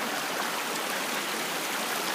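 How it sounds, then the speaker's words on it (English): A brook rushing through a big rock gap near an old mill site in a conservation area, a steady broadband wash of flowing water, close and continuous with no talk. "this is a big rock gap in the brook that the brook flows through"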